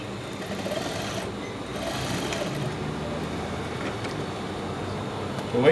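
A sewing machine runs steadily while stitching a corset, a continuous close mechanical whir held at an even level with no pauses until a slight bump at the end.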